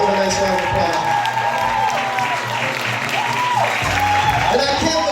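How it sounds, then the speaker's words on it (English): An audience at a live poetry awards show in Chicago applauds the winner of a Freedom Fighter award, a crowd's steady clapping with a few cheers, while a voice and some music carry on beneath it. "Y'all give him a nice round of applause."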